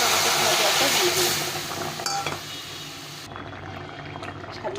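Curry gravy of ridge gourd, potato and taro simmers in a pan with a steady bubbling hiss, a few clinks of a utensil, then quieter boiling continues alone near the end.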